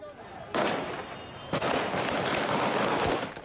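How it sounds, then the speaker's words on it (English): Gunfire from Taliban fighters at a protest in Jalalabad erupts as sudden sharp bursts followed by sustained loud crackling and rumble, outdoors and fairly close. "Taliban fighters responded with gunfire"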